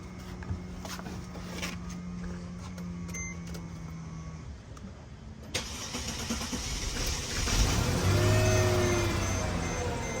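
A Mercedes car engine cranks and fires up with help from a jump starter, the starter whir giving way to a rising engine roar that settles into a steady idle, fairly close and alone without speech.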